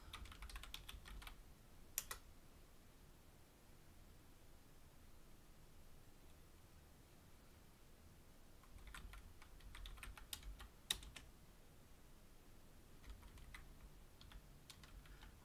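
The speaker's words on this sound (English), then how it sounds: "I will type in my" Quiet typing on a computer keyboard, with scattered soft key taps and a few sharper clicks over a steady background hiss.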